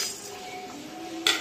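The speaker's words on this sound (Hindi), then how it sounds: "देखिए, हम कढ़ाई में कढ़ाई चढ़ा दिए।" A metal kadhai, an Indian wok, is set down on a stove with a short clank near the end, after a stretch of quiet kitchen room tone; no one speaks.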